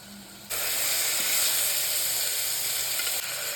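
Onions and mutton liver hit hot sesame oil in a pan with a sudden loud hiss. A sharp, steady sizzle follows and carries on at full strength, near and alone.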